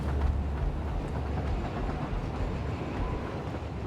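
A train rolls along in the factory-building video game Satisfactory. It makes a steady, dense rumble with faint clattering, loud and continuous, and no one talks.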